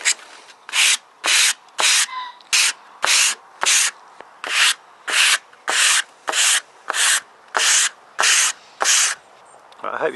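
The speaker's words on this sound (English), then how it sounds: "I just want to smooth it down so that it's a nice even coating on the edge of the MDF" Sandpaper rubbing filler smooth along an MDF board edge, about fourteen brisk, evenly spaced back-and-forth strokes with short pauses between, close and loud, with no voice over it.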